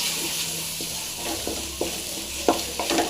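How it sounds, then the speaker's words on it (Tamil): Spices and tomato fry in a pan with a steady sizzle, broken by several sharp spoon-scraping stirs that grow more frequent toward the end. "நல்லா ஃப்ரை ஆகட்டும்"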